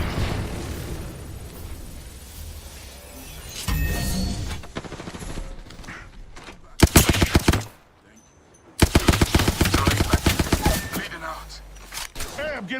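Rapid automatic gunfire from Apex Legends rattles in two dense bursts, with scattered shots, explosions and game effects before them, and a voice talking intermittently underneath.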